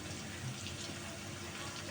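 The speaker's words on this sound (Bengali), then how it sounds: "এখন একটু জলটা বাড়াই দিব।" Water pours steadily into a pot of Bangladeshi mixed vegetables cooking with panch phoron, a soft, even gush that runs without a break through the brief moment.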